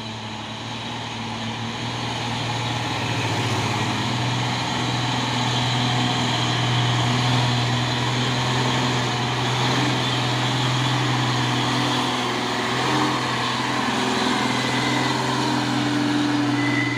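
A Hino trailer truck engine labouring up a steep uphill road, a loud, sustained low drone that swells gradually and holds steady for many seconds.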